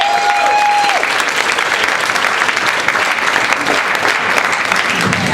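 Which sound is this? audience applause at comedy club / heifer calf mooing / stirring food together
audience applause at comedy club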